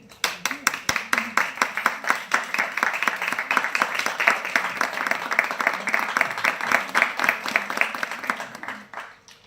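Lecture-hall audience breaks into a long round of applause after a conference talk: dense, steady clapping from many hands, fairly close and loud, tapering off near the end.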